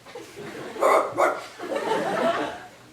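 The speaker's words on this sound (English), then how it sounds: "The dogs are out." Dogs barking outdoors in a couple of loud bursts with some background voices, then a broader, noisier stretch of mixed sound.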